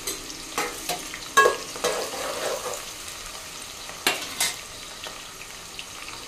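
Sliced onions fry in a generous amount of hot oil for vegetable biryani, sizzling steadily while a spoon scrapes and stirs the pan in irregular bursts, with a few sharp clinks against the metal.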